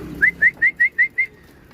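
Two pigeons outside give a short run of six evenly spaced whistling coos, close and clear, then quiet.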